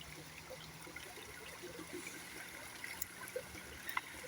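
A small stream of water trickles and flows steadily along a hiking trail in Canadian nature, a faint continuous burble with no voices.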